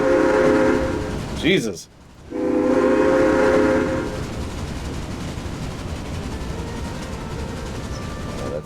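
Super Hudson steam locomotive in the video game Railway Empire, a loud whistle blast near the start and again after a brief gap, then a continuous rolling rumble; a voice briefly exclaims.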